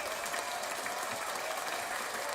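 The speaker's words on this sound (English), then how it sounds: "round of applause for everything that you do" A crowd claps loudly and continuously, a dense, even wash of applause throughout with no talking.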